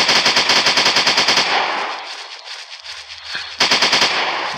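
Gunshots in a mobile dinosaur-hunting sniper video game: a rapid, loud run of automatic fire, a short quiet lull with a single sharp shot, then the rapid burst starts again. No one speaks.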